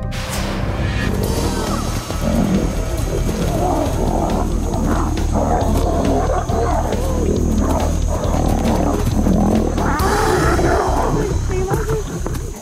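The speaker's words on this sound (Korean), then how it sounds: "사자들이 3미터 높이까지 몸을 일으키고 기다란 송곳니를 드러냅니다." Two lions fighting rear up and clash, giving a long stretch of loud, overlapping roars and snarls in the wild with scuffling bursts and little letup.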